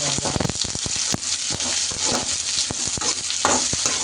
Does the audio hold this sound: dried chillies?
yes